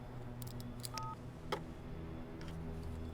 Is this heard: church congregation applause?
no